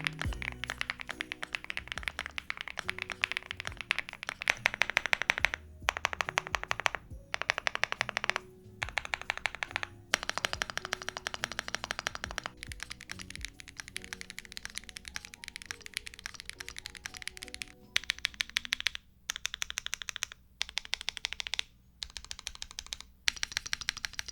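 Rapid typing on a DP104 budget mechanical keyboard, dense bursts of clacking keystrokes separated by short pauses, close and clear throughout with no voices.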